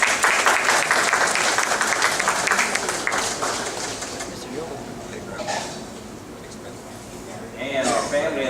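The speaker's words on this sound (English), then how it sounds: "So a round of applause for John Boxey." An installation-ceremony crowd claps for a few seconds, loud at first then thinning out, with voices talking and scattered clatter as the applause fades, a brief burst returning at the end.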